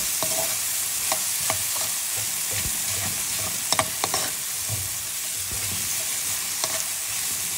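Garlic, onion, ginger and tomato sautéing in a pan, a steady close sizzle with occasional sharp clinks and scrapes of a utensil stirring.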